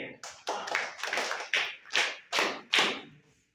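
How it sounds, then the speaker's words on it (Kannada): A small classroom group of students and teacher gives a brief round of applause, about eight distinct, fairly close claps in an uneven rhythm that fade out after a few seconds. "ಹಾಗೆ ಸರ್ ಚಪ್ಪಾಳೆ ಹೊಡೆಯಿರಿ"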